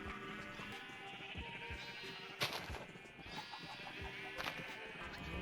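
A sheep bleats in a video game, its wavering calls rising over a busy layer of game music and effects, with a couple of sharper bursts partway through.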